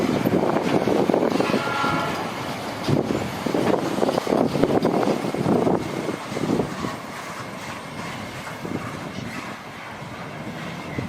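A freight train rumbles past on a railway line in Louveira, São Paulo, a steady broadband roar with rattling wagons and some wind buffeting, loud and continuous throughout.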